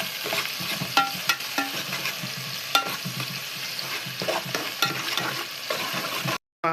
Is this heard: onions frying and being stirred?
yes